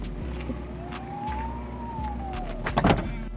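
The trunk of a Tesla Model S Plaid, fitted with a carbon rear spoiler, shuts with a short thud near the end, over a steady low hum and a faint rising-and-falling tonal sweep.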